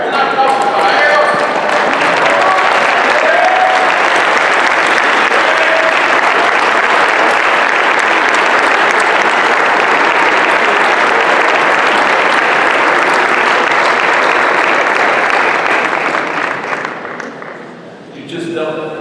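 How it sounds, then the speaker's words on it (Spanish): An audience gives loud, sustained applause at an event featuring Ambassador Ken Salazar, a dense, roaring wall of clapping that holds for a long stretch before thinning out near the end. "Un aplauso para ellos."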